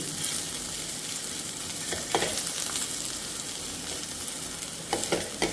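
Bitter gourd frying in a pan, a steady close sizzle with occasional stirring scrapes and clinks, no voices.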